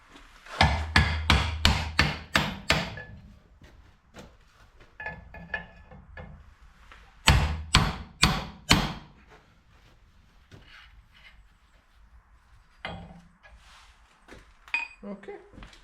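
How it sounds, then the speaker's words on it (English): Sharpened chisel struck repeatedly with a hammer to break open a seized part, likely the rear seal: two loud bursts of rapid metallic blows around the start and middle, with quieter taps, clinks and a voice speaking in between. "I sharpened that chisel and we'll try to break this."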